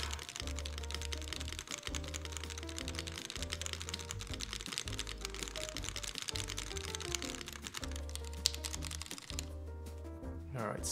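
Typing test on a Noxary 280 mechanical keyboard, with steady rapid keystroke clacks and rhythmic bursts of deeper thocks from the spacebar and larger keys, close and continuous, with a voice speaking underneath.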